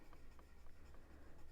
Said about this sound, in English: So I'm just going round and round with the pencil